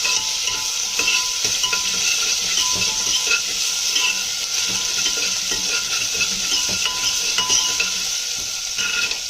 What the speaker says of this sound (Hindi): अब हम स्लोली इसमें चम्मच घुमाएंगे।